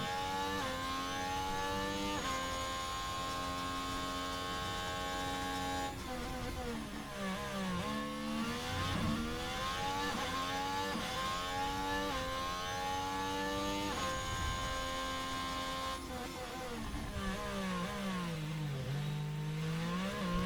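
An onboard race car engine in a racing video game, on a Canadian Grand Prix qualifying lap: a loud, high whining engine climbs in pitch through the gears, with repeated upshifts and dips under braking over about twenty seconds.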